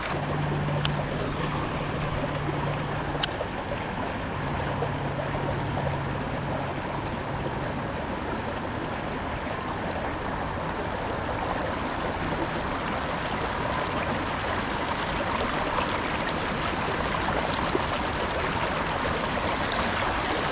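Steady rushing water fills the whole stretch, a constant broad roar of a creek pouring over a small waterfall, with no talking.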